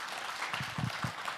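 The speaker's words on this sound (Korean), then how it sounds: "다시 한번 큰 박수 부탁드리겠습니다" An audience applauds a presenter with a faint, steady wash of clapping, heard from a distance with a few slightly stronger claps in the middle.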